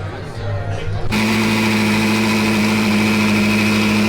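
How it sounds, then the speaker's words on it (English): A Koenigsegg CC850 twin-turbo V8 engine fires up with a sudden roar, then settles into a loud, steady idle with a deep rumbling hum. "we have the twin turbo Koenigsegg V8 engine in the back"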